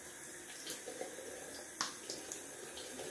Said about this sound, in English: Gonna take some cold water to the face.